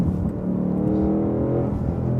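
A deep, throaty Ford Mustang Mach 1 engine revs steadily, its rumble rising slightly in pitch, loud and close throughout.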